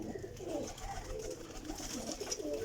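A Sialkoti black-faced pigeon coos softly and repeatedly, low rolling calls close by and faint, with no one talking.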